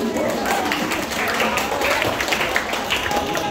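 A church congregation applauds, a short patter of clapping from many hands under a preacher's continuing speech, moderately loud and spread across the room.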